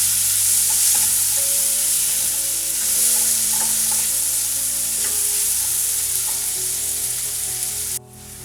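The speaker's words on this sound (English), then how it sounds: "And we'll just fry the onion." Chopped onion frying and being stirred in a pan while making bread poha, a steady sizzle with occasional stirring clinks, close and continuous with no talk.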